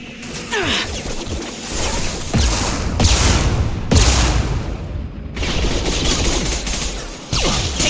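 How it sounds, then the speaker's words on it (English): Dense sci-fi gunfire from Mass Effect 2 combat: sustained automatic bursts and rattling volleys with sharp impacts and booming hits, loud and continuous, broken by brief gaps between firefights. "Heavy fire!"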